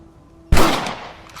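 A single loud rifle shot in the PS3 game Red Dead Redemption, a sharp close blast with a short fading tail after a quiet moment.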